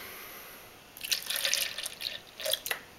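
Skim milk, 0.5% fat, pours from a carton into a dish in a kitchen as a short, soft trickling splash of liquid, starting after a second of quiet and fading in and out.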